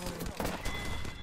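Short bursts of gunfire in the Apex Legends video game, crackling loudly over a busy mix of game noise and chatter.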